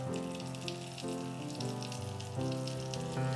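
Curry leaves sizzle in a pan beside stuffed chilies (bharli mirchi), a soft, quiet crackle under a steady tonal hum.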